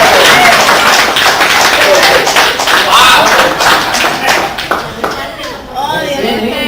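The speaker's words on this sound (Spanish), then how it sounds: "aplauso a Cris." A small group at a family reunion gives Cris a round of applause, close, loud uneven clapping with sharp individual claps, voices and laughter chattering over it.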